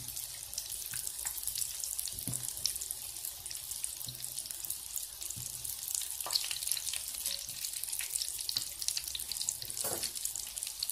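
Potatoes frying in oil, a continuous crackling sizzle with scattered pops, close and steady throughout with no talk.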